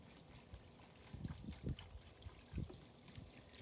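Dry concrete mix for stepping stones is poured into a one-gallon bucket, giving a faint, uneven rustling trickle with a few soft thuds as clumps drop in.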